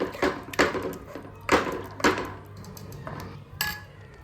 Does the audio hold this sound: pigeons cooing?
no